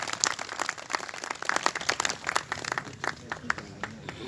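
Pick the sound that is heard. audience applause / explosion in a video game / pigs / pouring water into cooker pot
audience applause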